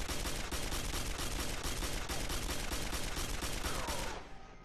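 Rapid assault rifle fire in the shooter game Quake 4, a dense, continuous burst of closely spaced shots at high loudness that cuts off abruptly near the end, leaving a brief fading tail.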